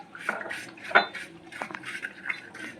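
A spoon scrapes and clinks against a bowl while masala sev is mixed, producing a few irregular sharp taps and stirring scrapes, close and fairly quiet.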